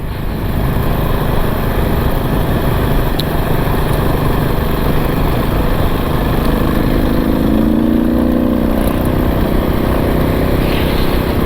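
Small motorcycle carrying a heavy load on a rough trail: a steady, loud engine drone with constant wind and road rumble, pitch shifting slightly as it rides along at moderate speed, no voices.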